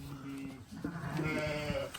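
A sheep bleats nearby, a wavering nasal call, with a second fainter bleat and faint farmyard background.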